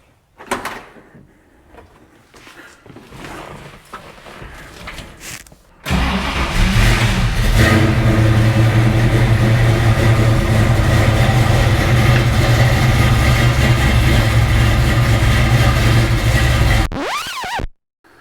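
A classic Ford Mustang, fitted with new wider wheels and tires, cranks and fires up after a quiet stretch with faint shuffling, then idles loudly and steadily at close range for about ten seconds before cutting off.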